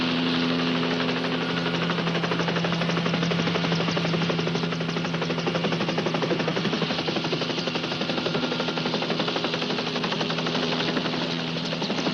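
A helicopter's rotor chop and turbine whine fill the scene in a steady, dense drone that holds at a constant loudness for about twelve seconds, with no talking.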